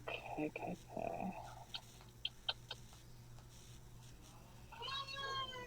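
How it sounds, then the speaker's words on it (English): A pet cat meows faintly in the background of a quiet room, a few soft calls near the start and a rising meow near the end, with light ticking and rustling in between. "My cat is here. She's meowing."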